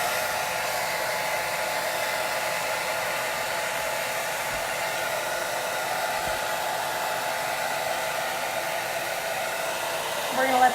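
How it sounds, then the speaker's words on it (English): A hair dryer on a low heat setting blows steadily to dry craft paint on a chalk-art decor piece, a loud, unbroken whoosh lasting the whole stretch with no talking. "You know what I'll do? I'll take my dryer to it."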